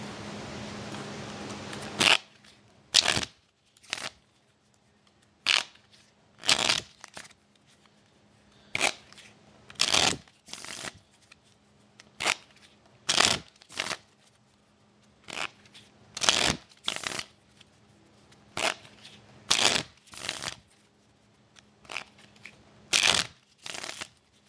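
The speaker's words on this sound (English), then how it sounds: "I will do a quick shuffle." A stack of 2011/12 Crown Royale hockey trading cards is shuffled by hand in quick, crisp riffling bursts that repeat at an uneven pace. The sound is close and clear, with short quiet gaps between the bursts.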